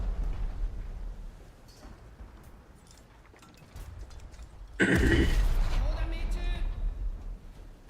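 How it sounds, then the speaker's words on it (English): A ship takes a direct hit on its torpedo tube in the naval battle game War Thunder, bursting into a single loud, booming explosion with a crackling tail after a quieter stretch. "Another direct hit on the torpedo tube and another lag of explosion."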